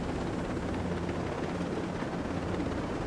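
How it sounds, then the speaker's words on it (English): A helicopter in the video game Ghost Recon Breakpoint drones with a dense, continuous rotor and engine roar, loud and steady from the cabin throughout with no talking. "Like, we're in a helicopter and"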